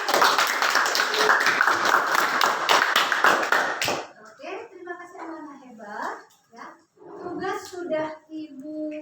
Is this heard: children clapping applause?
yes